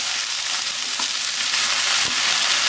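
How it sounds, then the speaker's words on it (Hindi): Okra fried and stirred with garlic and ajwain in a pan for dahi bhindi: a loud, even hiss of frying fills the whole stretch, with a couple of soft stirring knocks and no voices. "अब मैं इसमें भिंडी डाल दूंगी और अच्छे से मिक्स कर दूंगी भिंडी को।"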